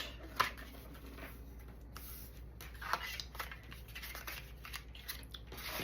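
Scissors snip paper for a Stampin' Up! craft project. A few distinct, faint cuts ring out in a quiet room, along with soft rustling and handling noises.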